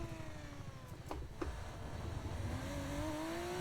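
An F2 race car at full throttle in the F1 25 game at Sakhir, Bahrain: a steady, rising engine whine, fairly quiet, with a couple of brief sharp clicks early on.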